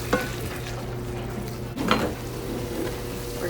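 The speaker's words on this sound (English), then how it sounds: "you can still start continuing the sizzling process" Chicken, mushrooms, onions and broccoli sizzling steadily in a hot skillet, with a few scraping stirs and clinks of a utensil against the pan.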